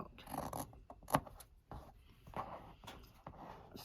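Scissors snip through a paper piecing pattern for a quilt, making a run of quiet, close crisp cuts and paper rustles at an uneven pace, soft and faint.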